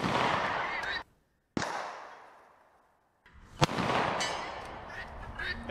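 Pistol shots with Winchester 115 ammunition fired at a 100-yard target give sharp, loud reports with long, rumbling decays outdoors, about three blasts in all.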